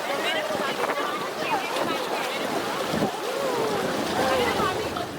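Tungareshwar waterfall near Vasai, India rushing down in a steady, dense roar of falling water, continuous and fairly loud throughout with a few faint higher tones above it.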